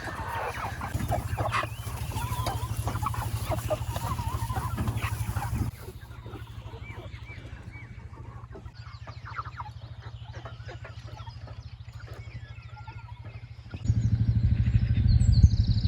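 Chickens cluck and squawk in a busy flock, nearby, over a steady low engine-like drone that changes character midway.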